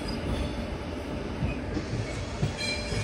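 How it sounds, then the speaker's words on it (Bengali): Biswa Bharati Intercity Express passes close by with a dense, steady rumble of wheels and rail clatter and faint squeals, heard from aboard another moving train leaving Howrah. "আমাদের সাথে দেখা হয়ে গেল বিশ্বভারতী ইন্টারসিটি এক্সপ্রেস।"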